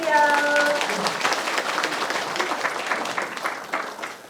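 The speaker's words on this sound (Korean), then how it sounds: "박수 주세요" Audience applause at a book launch event, a steady patter of many hands clapping close by that holds for several seconds. Brief tonal sounds at the very start.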